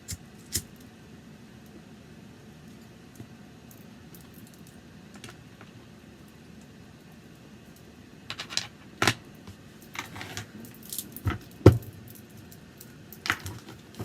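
Tarot cards being shuffled and drawn by hand, heard as faint scattered clicks and soft riffling snaps that cluster in the second half, with no talking.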